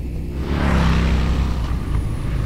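A Harley-Davidson Fat Bob 114 motorcycle cruises in third gear through medium-speed sweeping bends. Its engine gives a steady, loud, low rumble mixed with wind rush, and no one speaks.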